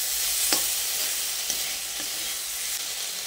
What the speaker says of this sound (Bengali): তারপর সমস্ত কিছুকে একসঙ্গে ভালো করে নেড়ে চেড়ে মিশিয়ে নিচ্ছি।